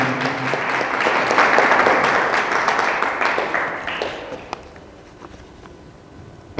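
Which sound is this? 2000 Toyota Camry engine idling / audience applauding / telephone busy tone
audience applauding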